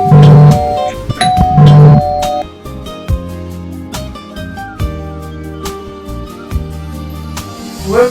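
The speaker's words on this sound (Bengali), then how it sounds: "তখন সে প্রতারক বাসার কলিং বেল প্রেস করে আর বাসার ভিতর যায়" A house doorbell rings with two bright chime bursts near the start, loud and close, followed by a run of melodic musical tones.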